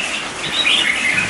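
A caged red-whiskered bulbul gives bright, rising chirps over a steady rustle of flapping wings against the cage, close and loud throughout the brief burst.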